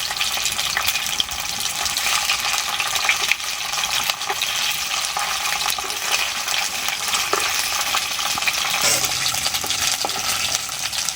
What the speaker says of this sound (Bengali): সোয়া চাপ করে ভালো করে উল্টি পাল্টি আলাদা করে ভেজে নেবে